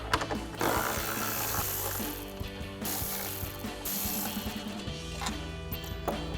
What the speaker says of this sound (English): So we're gonna grab our ratchet and extension and 13mm socket. We're gonna take off our 3 bolts